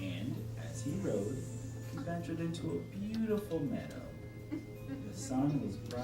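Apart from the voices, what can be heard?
None of the usual background noises is heard.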